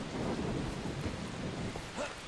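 Thunderstorm with heavy rain in the video game Far Cry 3, a continuous low thunder rumble under steady rain hiss across the whole stretch, with no talking.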